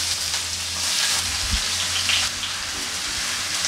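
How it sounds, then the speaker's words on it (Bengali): Chopped onion sizzles in a pan of hot oil, a dense, rain-like crackle that stays loud and close throughout, with a brief stirring knock partway through and no talking. "পেঁয়াজ আমি হালকা করে ভেজে নিব কিছুক্ষণের জন্য।"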